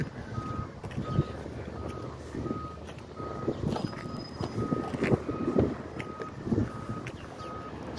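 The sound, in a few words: McNeilus recycling truck reversing with backup beeps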